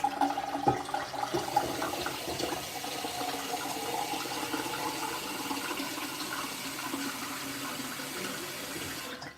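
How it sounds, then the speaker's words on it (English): Water filling from a tap, a steady rushing flow with a faint hum underneath, moderately quiet and unbroken for the whole stretch. "I'm just filling up the water now"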